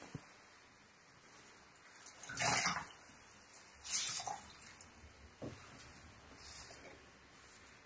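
Pre-wetted silk lowered into a pot of nettle dye bath gives a few soft watery splashes and sloshes, close and fairly quiet, spaced apart with gentle dripping between, no talking.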